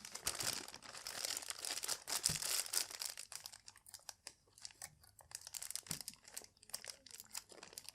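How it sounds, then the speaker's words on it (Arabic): A plastic bag holding water filter cartridges is torn open and handled, giving close crinkling and crunching plastic noises in irregular bursts, loudest at the start. "نفك الكيس ده مع بعض."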